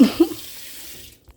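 Tap water runs briefly to rinse out a smoothie blender. It is a short splashing flow that fades to quiet within about a second.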